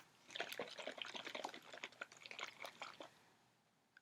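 A jar holding glue, glitter and water is shaken by hand, giving a quiet, rapid sloshing and rattling burst that fades out over a few seconds.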